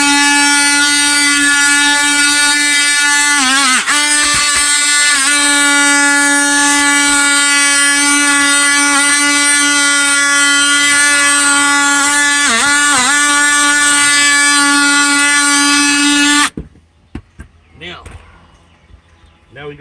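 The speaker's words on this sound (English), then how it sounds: "you can use a sander like I'm getting ready to do" An electric sander works on a rotted window frame, giving a loud, steady motor whine that runs unbroken for about sixteen seconds and then cuts off, leaving faint scattered handling noises.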